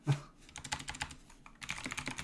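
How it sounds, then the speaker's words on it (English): A loud computer keyboard clatters with rapid, irregular keystrokes close to the microphone, a dense burst of clicks that pauses briefly and then resumes, with no talking. "excuse my fucking keyboard. That thing is loud as hell"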